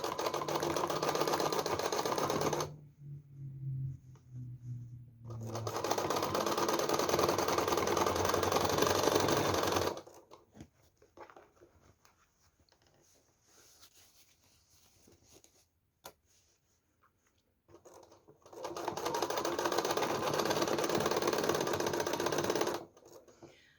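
Sewing machine doing free motion stitching on a patchwork belt, running in loud steady bursts of rapid mechanical stitching separated by pauses and quieter handling noises.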